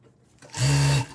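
Sewing machine stitching elastic onto pants, a quiet start followed by a loud, steady mechanical whir of the needle running for about half a second before stopping abruptly.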